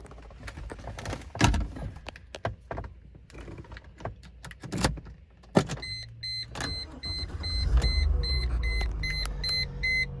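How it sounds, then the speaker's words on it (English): A Mercedes started with a programmed aftermarket flip key: a few clicks and clunks near the car, then the engine catches and settles into a steady low idle with a repeating electronic chime over it. "So as you see, the vehicle started."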